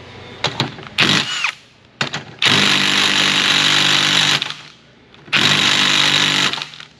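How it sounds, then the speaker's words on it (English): An impact gun struggles on a Lexus RX350 3.5, firing in three separate loud, close bursts of hammering whir. The first is short and stuttering, and the last two are longer sustained runs, with brief silences between them. "Stop doing that, impact gun."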